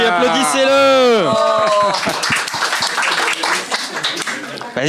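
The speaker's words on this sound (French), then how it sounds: "applaudissez-le." Audience applause and clapping at a comedy show, starting after a loud excited voice and continuing as scattered claps with some voices over it.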